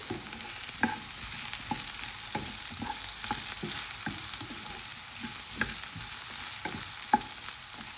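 Spinach and potato fry stirred in a pan, a steady sizzle under repeated clicks and scrapes of the spoon against the pan.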